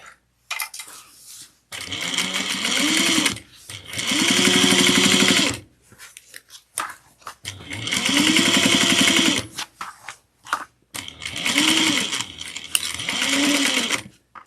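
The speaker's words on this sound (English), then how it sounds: "I like to back stitch." A sewing machine back stitching a half-inch seam on a fabric tote bag runs loud and close in four steady bursts, stopping and starting between them, with no talking.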